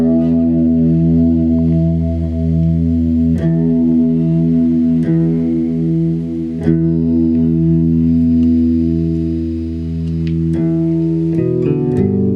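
Electric guitar played through a Dunlop MXR chorus pedal set with more low than high, giving a watery, shimmering tone; sustained chords ring steadily with a few picked strums, loud and alone.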